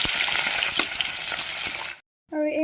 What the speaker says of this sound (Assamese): ৰ'ব, আৰু এই মাছকেইটা ফ্ৰাই কৰি লৈছোঁ